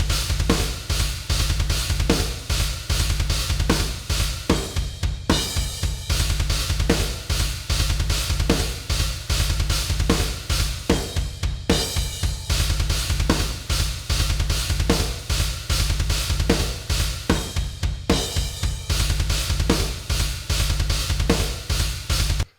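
A full drum kit mix played back with panning spread across the stereo field, a steady driving groove of kick, snare and cymbals, loud and continuous with periodic fills.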